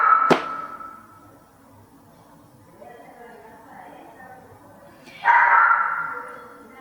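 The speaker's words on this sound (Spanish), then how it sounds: "¡El perro! ¡Qué pesado es!" A dog barks in two separate bursts, a sharp bark at the start and a longer, louder yelp-like bark near the end, with a person talking in between.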